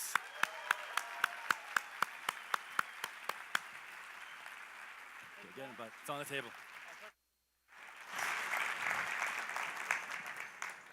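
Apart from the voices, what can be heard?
audience applause for the host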